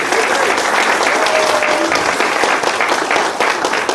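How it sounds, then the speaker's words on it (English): Wedding guests applaud the bridesmaids at a reception, a loud, sustained burst of many hands clapping that fills the room from start to finish. "Can we get a wee clap from Michelle's bridesmaids"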